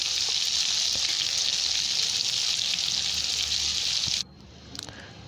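Garlic sizzling loudly in hot oil in a pan for chutney, a steady, close frying hiss with occasional stirring taps that cuts off abruptly near the end, leaving a quieter room with a faint clatter.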